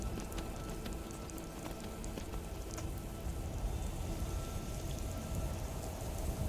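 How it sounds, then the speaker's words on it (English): Steady rainfall in a Skyrim weather mod, a dense, even patter of drops hissing continuously throughout, with no speech over it. "I can see some raindrops coming down on this weather mod"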